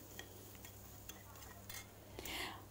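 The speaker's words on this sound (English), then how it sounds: "Now we will add cooked rice to it." Spoon scraping and stirring cooked rice into sautéed coconut in a pan, soft repeated clinks and scrapes at a gentle rhythm, faint and close, with a light sizzle underneath.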